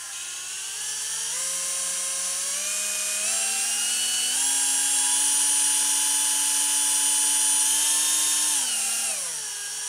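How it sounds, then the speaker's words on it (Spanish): A power drill spinning a small motor used as a generator whines steadily, its pitch climbing in steps as it spins faster, holding high, then winding down near the end. "le pongo el taladro y lo hacemos girar un poco más rápido"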